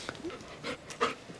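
Puppy panting in quick, soft breathy bursts, faint and close, with a few slightly louder huffs and no talking over it.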